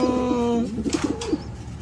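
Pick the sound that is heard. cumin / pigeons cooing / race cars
pigeons cooing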